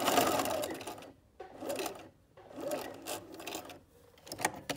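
A sewing machine stitches double gauze skirt fabric in short bursts, its motor whirring and needle clattering close by, with brief pauses between runs and no talking.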